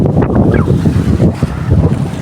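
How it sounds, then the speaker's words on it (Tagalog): Loud, continuous rush of churning water and surf with heavy wind buffeting the microphone, no pauses, close and roaring throughout. "medyo po malakas po ang hampas po ng alon sa galing po sa kargatan"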